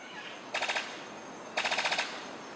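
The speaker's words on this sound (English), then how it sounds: "His courtship song sounds like a machine gun." A sicklebill bird of paradise gives its courtship song: two short bursts of rapid, evenly spaced clattering pulses with a machine-gun-like rhythm, fairly close and alone over faint background hiss.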